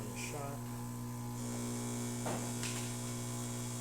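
A VBM heat exchanger espresso machine pulling a test shot after a full tune-up, its pump giving a steady electric hum and buzz throughout, with a few faint clicks and knocks nearby.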